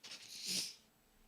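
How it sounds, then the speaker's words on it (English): A faint single sneeze lasts about a second, a soft breathy burst that rises and fades, heard alone in a quiet room. "Oh, I'm gonna sneeze."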